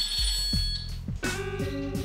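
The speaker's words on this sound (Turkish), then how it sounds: "Bebeğim bir saniye, telefonum çalıyor." A telephone rings with repeated bright electronic ring tones, loud and close, with a steady hum underneath and no talk.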